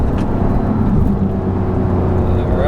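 A Porsche GT3 engine pulls hard out of freeway traffic, a steady loud rumbling drone that rises as it accelerates, heard from inside the car.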